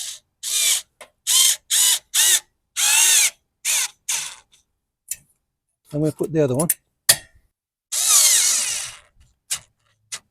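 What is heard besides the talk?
drill driving self-tapping screws into generator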